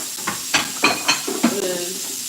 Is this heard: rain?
no